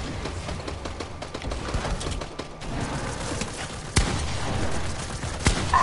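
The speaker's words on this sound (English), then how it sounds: "I'm being shot at." Gunfire in an online multiplayer shooter match, dense and continuous, with crackling shots and a sharper report near the middle under a busy game soundscape.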